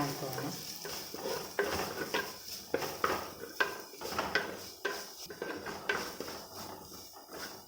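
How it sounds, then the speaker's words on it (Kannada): Cabbage and capsicum being stirred in a pan for Indian-style egg fried rice: repeated scraping, tapping spatula strokes in an uneven rhythm over a soft, continuous sizzle, close and clear. "ಇವಾಗ ಕ್ಯಾಬೇಜು ಮತ್ತು ಕ್ಯಾಪ್ಸಿಕಮ್ ಹಾಕ್ತೀನಿ. ಇವಾಗ ಮಿಕ್ಸ್ ಮಾಡ್ಕೊಳ್ಳೋಣ."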